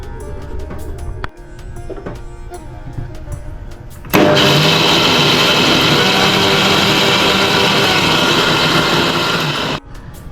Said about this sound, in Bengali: এখন এটাকে আমি মিক্সিতে ব্লেন্ড করে নেব।